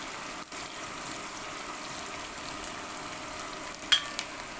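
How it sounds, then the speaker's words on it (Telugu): Snake gourd pieces and onion frying in a pan at home, a steady soft sizzle with faint stirring clicks, close and alone without talk. "ఆనియన్ మంచిగా ఫ్రై అయ్యాక మనం పొట్లకాయ ముక్కలు వేసేద్దాం."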